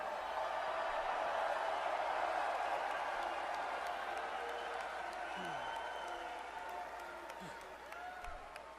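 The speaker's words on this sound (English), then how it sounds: "I'd like to ask all of you to join me in cheering on Easton" A large crowd at the NFL Draft claps and cheers in a broad, steady roar that slowly fades, with a voice speaking over it partway through.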